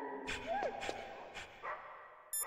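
A puppy in the PS1 game Metal Gear Solid gives a few short yips and small barks, fairly faint, among game ambience and soft overlapping speech.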